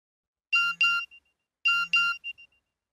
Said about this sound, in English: My mobile phone beeped.